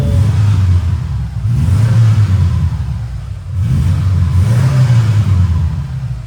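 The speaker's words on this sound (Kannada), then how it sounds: "ಕೇಳಿಸ್ಕೊಡಿ ಎಕ್ಸಾಸ್ಟ್ ಹೆಂಗ್ ಗೊತ್ತಾಯ್ತು ಸೌಂಡ್" The exhaust of a 2004 four-wheel-drive car revs in repeated loud surges, a deep rumbling roar swelling and easing about every two seconds, with no talking over it.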